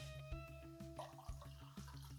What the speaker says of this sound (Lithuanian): mes jau užpilam verdančių vandeniu